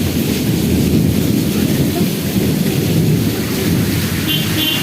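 A thunderstorm with rain in Guntur brings a deep, continuous rumble of thunder over a steady wash of falling rain, loud and close throughout.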